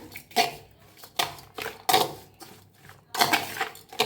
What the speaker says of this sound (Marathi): सगळं चमच्याने मिक्स करूया